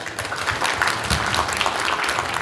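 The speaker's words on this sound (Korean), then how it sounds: "큰 박수 부탁드리겠습니다" Steady audience applause fills a symposium hall at a Korean medical event, a dense even wash of many hands clapping that holds level throughout with no voices on top.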